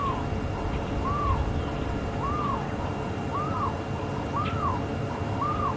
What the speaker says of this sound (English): I can hear a barred owl calling behind us now,